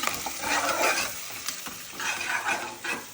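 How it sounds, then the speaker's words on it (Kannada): Onions fry in a pan, a dense hissing sizzle close up with rhythmic swells as they are stirred, no voices. "ಈರುಳ್ಳಿ ದಪ್ಪ ದಪ್ಪ ಕಾಣಿಸ್ತಿದೆ ಅಲ್ವಾ ಅದು ಫುಲ್ ಸಣ್ಣ ಆಗುತ್ತೆ ಚೆನ್ನಾಗಿ ಫ್ರೈ ಆಗ್ಬೇಕು"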